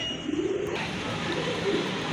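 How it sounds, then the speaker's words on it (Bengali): Pigeons coo nearby, two soft, low, throaty calls over a light background hiss. "আরেক জোড়া কবুতর মাশাল্লাহ খুবই সুন্দর কোয়ালিটি সম্পন্ন কোকা কবুতর"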